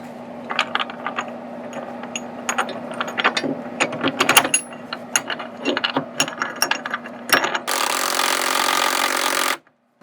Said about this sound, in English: I'll be tightening all these down with a wrench.